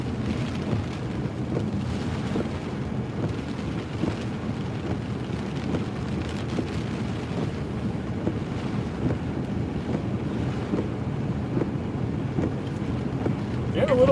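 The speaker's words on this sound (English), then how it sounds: "Getting a little windy out here already." Strong wind buffets the microphone at Matagorda Harbor as Tropical Storm Nicholas approaches, a constant low roaring rush with gusty swells and no clear voices.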